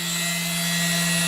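A CNC machine drills a run of 1 mm holes into a double-sided PCB, giving a steady, loud, continuous high whine with a strong constant hum beneath it, unbroken across the short stretch.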